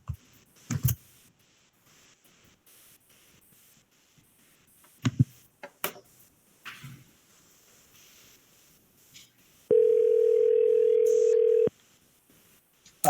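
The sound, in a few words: telephone call ringing out from meeting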